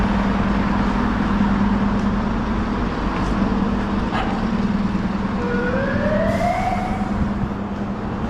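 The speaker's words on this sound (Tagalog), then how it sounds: "Daming mga ambulansya." A siren wails in the distance, rising and falling over steady loud street traffic noise.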